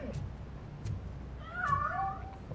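A cat in the game Robocop Rogue City gives one wavering meow partway through, moderately close over a low background hum with faint taps.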